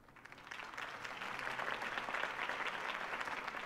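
Crowd applause and cheering at a campaign rally in Batman: The Telltale Series on PS4, a dense steady roar of clapping that swells slightly and holds without a pause.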